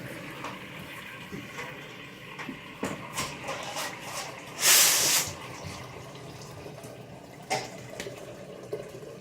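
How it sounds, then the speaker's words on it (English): Hot water runs from a kitchen tap into a cooking pot, a soft, steady trickle with faint clinks and shuffling handling noises and one brief louder splash near the middle. "You salt it a little bit, the water just a little bit as you're filling hot water."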